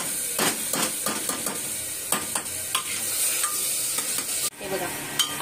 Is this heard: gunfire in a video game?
no